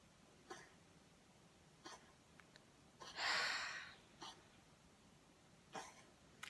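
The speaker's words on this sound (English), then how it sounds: "That's my cat coughing up a hairball." A quiet room with a few short, soft coughing bursts from a cat coughing up a hairball, spread out, then one longer raspy hacking spell in the middle, faint and close by.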